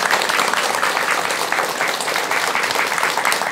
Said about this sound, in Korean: 오늘 좋은 말씀해 주신 스님께 여러분 큰 박수 부탁드립니다